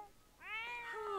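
A cat in The Sims 4 video game gives one short, rising-then-falling meow, fairly quiet and alone, lasting under a second.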